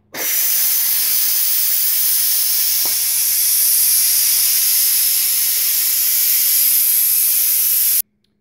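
Steam hisses loudly and continuously from a Ninja Foodi pressure release valve after cooking corned beef, cabbage and potatoes, a steady roaring jet lasting about eight seconds before cutting off abruptly.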